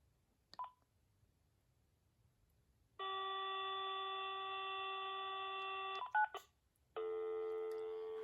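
Uniden waterproof cordless phone sounding its dialing tones: a short beep, then a long steady tone for about three seconds, a few quick key beeps, and another sustained tone, all close and clean in a quiet room.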